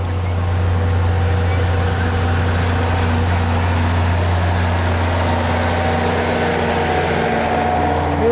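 An Allis-Chalmers tractor engine runs steadily at a cotton gin festival, a loud, continuous low droning idle with a constant throb and outdoor background noise.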